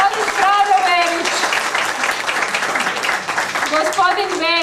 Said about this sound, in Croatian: molim vas još jedan veliki aplauz